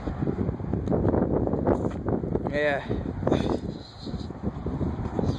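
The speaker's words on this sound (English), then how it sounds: "So windy here." Outdoor wind buffets the microphone in strong, rumbling gusts throughout, with a voice briefly speaking over it.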